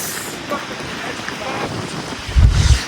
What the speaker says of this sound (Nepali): एकदमै डेन्जर हावा लाग्छ है